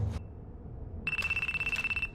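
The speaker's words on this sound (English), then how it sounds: "It's from the boss's phone." A phone's ringtone: after a short tone and a pause, a bright, steady electronic ring pulses rapidly for about a second, fairly quiet and with no voices over it.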